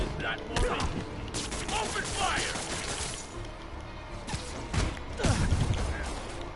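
Pistol gunfire and combat crashes from the video game Marvel's Spider-Man, with a busy fight mix of sharp cracks, thumps and smashes running continuously under a speaking voice.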